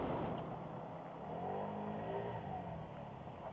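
An Arora R50 Cappuccino 50cc scooter engine drones steadily as it pulls, a continuous buzzing motor note heard at moderate volume with rising harmonic tones.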